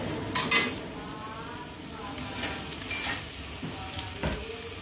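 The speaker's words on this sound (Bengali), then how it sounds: "নুন দিয়ে আর একটু ভাজা ভাজা করে নেবো।" Potato mixture frying with salt in a pan, a steady close sizzle with scraping stir strokes and light metal clinks of a spoon against the pan.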